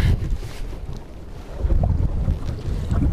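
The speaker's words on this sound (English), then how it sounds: "Yes, it's still breezy." Wind gusts over a small fishing boat out on the ocean, producing a loud rumbling buffet of wind noise with faint water sounds beneath, no voices.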